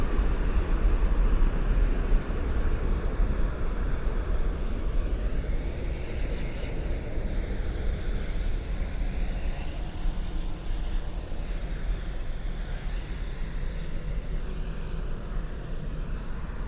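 An Airbus A319 or A320 airliner at Toronto Pearson airport roars with a continuous broadband jet engine rush, loud and sustained, slowly shifting in tone as it moves past.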